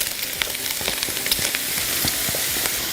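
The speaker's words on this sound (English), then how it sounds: "after a few minutes of rendering down this bacon, when you have enough grease in the pan, we're going to add in our diced mushrooms" Bacon and diced mushrooms fry in rendered bacon grease in a pan. The sizzle is steady and crackling, with scattered sharp pops and light stirring close by.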